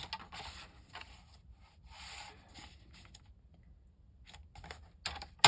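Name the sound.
cutting craft cardstock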